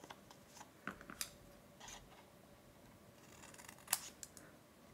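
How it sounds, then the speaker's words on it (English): Paper is cut with scissors while making miter cuts for a box, several soft close snips scattered over a quiet background. "we're gonna do some miter cuts here"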